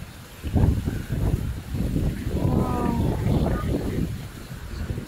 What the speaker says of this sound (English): Sure it's windy here.